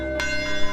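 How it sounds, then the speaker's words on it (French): A single church bell rings with a bright clang that hangs in a long, humming decay, heard close and alone with no voices. "la même cloche qui sonna ce certain dimanche matin il y a 71 ans, appelant les croyants à venir assister au service, sonne toujours fidèlement actuellement"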